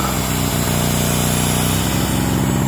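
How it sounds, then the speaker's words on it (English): A small carbureted portable generator engine runs loud and close with a steady, slightly uneven putter, and no voices. "It's not the smoothest running thing on the planet, but you know, it's carbureted. That's just what carbureted engines sound like."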